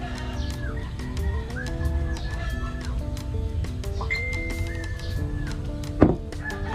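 Chickens cluck and make short calls repeatedly against a steady low background hum, with a single sharp thunk near the end.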